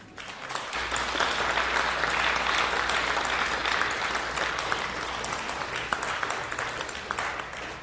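Audience applause welcoming Dr. Bernstein to the stage for an evening talk on prematurity, a steady, dense wash of clapping from a sizeable crowd that holds for the whole stretch without fading.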